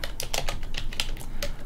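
Keys on a computer keyboard are tapped in a quick, uneven run of a dozen or so crisp clicks, close and fairly loud, with no talking.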